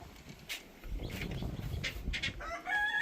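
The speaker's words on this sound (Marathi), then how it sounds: "आता बाहेर येतील कोंबड्या" Several chickens clucking and calling as they come out of a shed in a Konkan village, a mix of short clucks and a rising crow-like call at the end, close by over a low rustling background.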